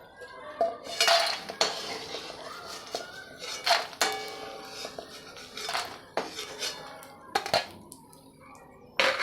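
Fried edible gum being transferred onto a metal plate, heard as a run of close clinks and scrapes of a spoon against steel dishes, sharp and irregular, with brief quiet gaps between.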